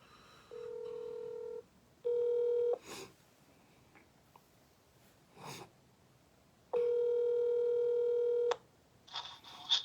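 A telephone is dialed to call someone back: bursts of keypad tones and steady ringing tones alternate with short quiet gaps, close and clear, with faint breathing between them.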